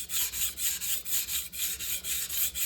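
Knife blade drawn by hand across a sharpening stone, a steady run of rhythmic gritty scraping strokes, about four per second, close and clear with no talk.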